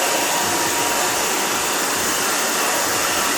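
A hair dryer blows steadily and loudly on a thick curly pixie cut, a constant airy whoosh that runs unbroken and alone.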